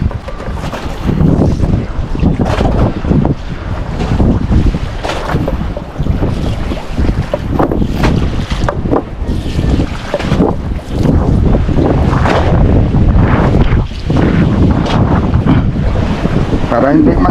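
A boat moves over open water near fishing lines at sea, heavy wind buffeting the microphone and waves splashing in a loud, continuous churning wash with irregular thumps, while someone talks briefly in the background.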